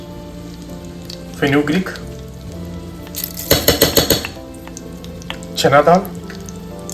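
Mustard seeds crackling in hot oil in a pan over medium heat, with a soft steady sizzle and bursts of popping spatter, while a woman names ingredients over it.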